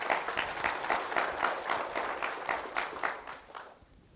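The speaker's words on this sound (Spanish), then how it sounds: "Dale un fuerte aplauso al Señor." A church congregation applauds, a dense crowd of clapping pulsing in rhythmic waves for about four seconds before fading out.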